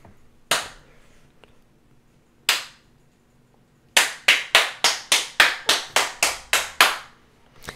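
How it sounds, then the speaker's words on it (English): Hand clapping during a headphone test: two single loud claps spaced apart, then a quick run of about ten sharp, evenly paced claps, close and crisp against a quiet room. "So I can hear the claps because they are pretty loud."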